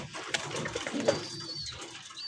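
A loft stocked with male pigeons, soft cooing and restless shuffling close by, with a brief sharp call partway through and a steady low rustle throughout.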